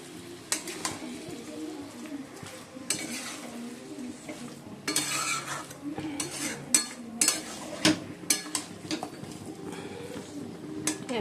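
Cabbage cooking with loitta fish and garam masala is stirred in a pan, with intermittent scraping and clinking of a utensil against the pot and a soft sizzle underneath.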